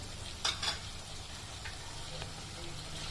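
Onion frying in a pan for veg kolhapuri, a quiet continuous sizzle with a couple of brief clinks from a utensil near the start, heard alone without talk.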